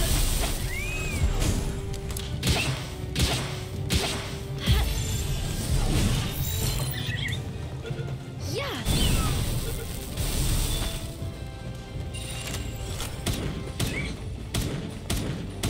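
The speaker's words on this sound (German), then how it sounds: "Macht auch richtig viel Schaden, die Kanone." A cannon firing in the game Palworld, repeated thumps and crashes over a busy bed of game sounds and effects, loud and near, with some voice mixed in.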